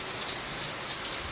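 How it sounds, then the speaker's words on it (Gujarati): Steady rain pours down outdoors, a dense even hiss of drops striking the ground and surfaces, continuous and close with no voices. "હવે તો વરસાદ આવી ગયો"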